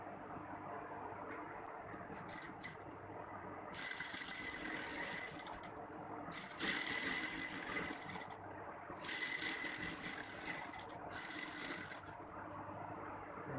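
A sewing machine stitches a saree blouse in a tailor shop, running in several short bursts of rapid stitching separated by brief pauses over a low background hum.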